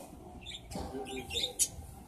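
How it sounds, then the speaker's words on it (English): Caged birds in a Petco pet store give a few short, fairly faint chirps and tweets against the hum of the shop. "Birds."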